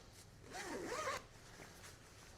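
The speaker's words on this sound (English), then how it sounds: "Down the side is a large zipper that is going to help you mechanically vent to stay dry and cool." A large side zipper on an outdoor jacket is pulled open in one smooth, close zip lasting under a second, followed by quiet room tone.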